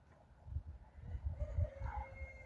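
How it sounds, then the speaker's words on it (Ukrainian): Chickens gathered by a feeding trough in a farmyard give soft, low clucks, faint and a little distant, over quiet background noise. "Біля корита знаходяться тільки кури"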